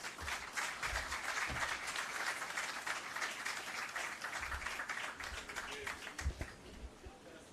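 Sustained audience applause fills a ribbon-cutting ceremony for a business center opening in Jamaica, steady dense clapping from a crowd throughout with a few louder claps near the end.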